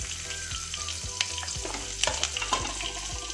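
Potato pieces fry in a pan for aloo shimla mirch, a dense, constant close sizzle with occasional utensil scrapes and knocks as they are stirred, no voices.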